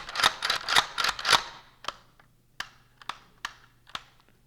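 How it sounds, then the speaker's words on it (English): A Ruger Mini-14 rifle's slide and safety are worked several times, a quick cluster of sharp metallic clacks followed by spaced single clicks, close and dry against a quiet background. "Cycle the slide and safety a few times to make sure the rifle is in good working order."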